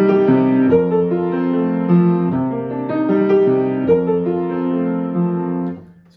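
Solo piano accompaniment from a published choral composition moves in a gently lilting, flowing pattern of sustained chords and melody, played alone and fairly loud for about six seconds before it fades out at the end.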